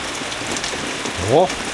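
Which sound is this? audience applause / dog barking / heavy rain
heavy rain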